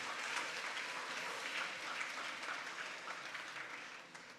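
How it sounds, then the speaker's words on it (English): A graduation-ceremony crowd at Gingerland Secondary School applauds the class of 2024, a dense, steady wash of many hands clapping that carries through the whole stretch and eases off slightly toward the end. "Let's give them another round of applause"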